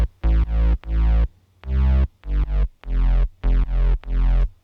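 Drop bass from an FM'd saw operator layered with a sub, sidechained so each loud, thick note pumps in choppy bursts with short gaps, a syncopated electronic bassline heard alone.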